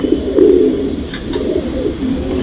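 A tournament racing pigeon, a male flier, coos in low, rolling phrases close by, repeating steadily against a faint background hum.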